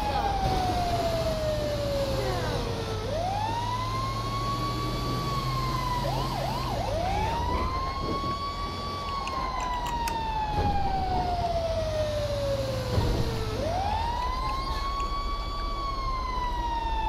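A fire truck siren in the video game GTA V wails loudly in long rising and falling sweeps, repeating several times with a low engine rumble beneath.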